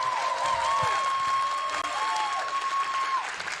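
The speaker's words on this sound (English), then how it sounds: "a huge round of applause for Dennis and Fia" Audience applause for Dennis and Fia at a PAX East 2026 game premiere, a steady wash of clapping from a large crowd with a sustained tone ringing through it.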